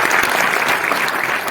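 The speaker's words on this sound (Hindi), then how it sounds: "ताली हो जाना" A workshop audience claps together in a dense burst of applause, loud and close, with no other sound over it.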